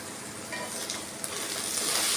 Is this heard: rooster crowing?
no